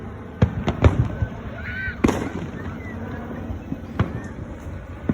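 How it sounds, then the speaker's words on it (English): Fireworks going off in the Bloxburg video game for the 4th of July: several sharp pops and booming bursts at irregular intervals, with a soft whistling rise between them over a low rumbling background. "Right now I'm watching fireworks."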